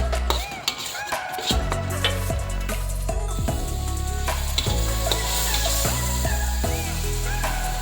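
Hot cooking oil sizzles steadily in a frying pan while making pomfret balado, with stirring and scraping clatters scattered throughout and a faint hum beneath.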